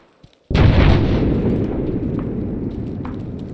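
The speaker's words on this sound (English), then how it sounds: "that's mortars. We need to fall back." Mortar rounds exploding in the military video game Arma 3: a single heavy, loud blast lands abruptly and its deep rumble rolls on and slowly decays without fading out.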